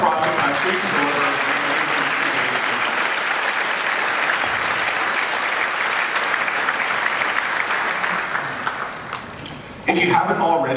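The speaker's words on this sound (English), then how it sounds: "Let's give a huge round of applause to all the speakers that have come from across the country to deliver." A conference audience at a keynote claps for the speakers, a long, loud, even wave of applause that dips near the end before a voice speaks over the fading claps.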